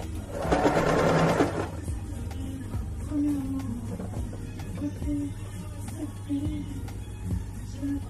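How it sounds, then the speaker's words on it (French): A sewing machine runs a short fast burst of stitching along basted trousers for about a second, then falls silent, leaving a low room hum with faint handling noises. "j'ai bâti avec du fil blanc comme vous pouvez voir, et je vais coudre tout ça."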